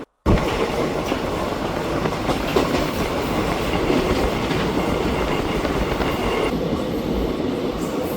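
Nagercoil to Chennai Central weekly train running on its rails, with a loud, continuous rumble and clickety-clack of wheels heard up close from on board, and no voices.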